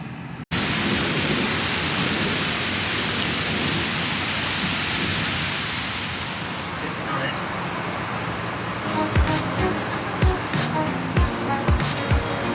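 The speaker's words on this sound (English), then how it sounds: "there's a huge thunderstorm outside" A heavy thunderstorm pours outside the Azamara Quest cruise ship docked at Bordeaux, a steady loud wash of rain that thins after several seconds into scattered sharp drips and taps.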